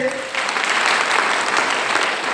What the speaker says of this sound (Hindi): एक बार डिरेक्शन का जोरदार ताली होनी चाहिए।